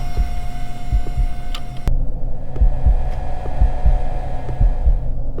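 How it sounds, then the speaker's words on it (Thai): Heartbeat sound effect in a haunted gas station horror video game, a steady repeated low thumping pulse over a constant hum, loud and close, with no talk. "เสียงหัวใจเต้น นี่ทำผมไม่ค่อยสบายใจเลย"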